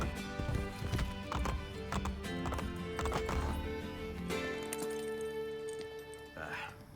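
Hooves clip-clop at a steady trot with an occasional whinny in Assassin's Creed: Brotherhood, layered over background music and ambient game sound.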